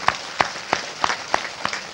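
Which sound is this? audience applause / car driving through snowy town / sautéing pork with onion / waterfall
audience applause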